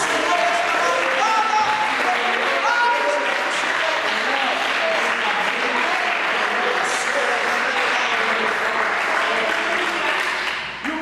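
A church congregation applauds at an overnight vigil, with steady, dense clapping that fills the full eleven seconds at high level and fades slightly at the end; no speech is heard over it.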